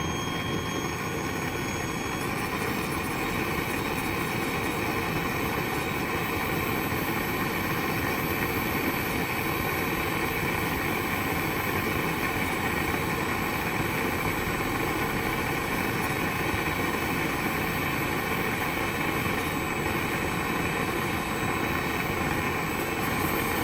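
A small homemade motorjet engine runs steadily and loudly for the whole stretch, giving a continuous roaring, whooshing drone with a sustained high whine and no pauses.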